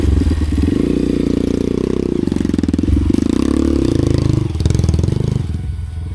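Motorcycle engine on a dirt trail, a loud, close, steady rumbling run with rhythmic firing pulses, slightly rising and falling revs, and some clatter from the bike.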